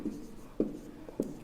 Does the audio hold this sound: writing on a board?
yes